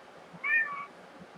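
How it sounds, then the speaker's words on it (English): A cat sitting in a lap lets out a single short, close meow that rises and falls over a quiet background. "there's a cat in my lap now."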